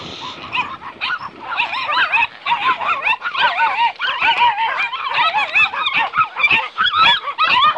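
Several small dogs bark and yip in an excited, overlapping chorus, loud and close, the sharp barks repeating continuously with no pause.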